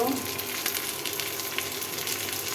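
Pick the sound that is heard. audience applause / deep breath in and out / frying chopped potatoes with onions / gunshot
frying chopped potatoes with onions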